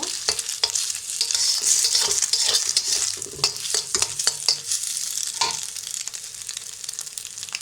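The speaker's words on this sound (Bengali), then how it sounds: "ডিমটাকে আমি ভেজে জোড়া জোড়া করে নেব।" Eggs frying in oil in a pan with steady sizzling and crackling, broken by repeated sharp scraping and stirring clicks from a utensil, close and fairly loud with no talking.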